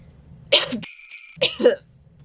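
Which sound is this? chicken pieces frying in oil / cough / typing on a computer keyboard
cough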